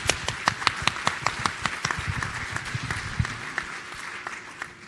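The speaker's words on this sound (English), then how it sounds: "And for that, little round of applause." An audience applauds after staff are thanked at a service-honoring event in Omaha, with crisp individual claps that are loud at first and then thin out.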